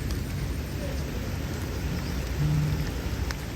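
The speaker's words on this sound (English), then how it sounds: "Rain is easing off a little bit." Rain falls steadily outdoors at a fishing spot in Thailand, a constant dense hiss of drops on surfaces with no gaps, moderately loud and unchanging across the stretch.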